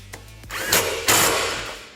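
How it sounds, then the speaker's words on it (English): Power drill driving bracket bolts fully tight while fitting SuperATV aluminum half doors to a Can-Am Defender Max, heard as two short, close, whirring bursts about a third of a second apart. "hold our bracket straight, and we'll go ahead and we will fully tighten"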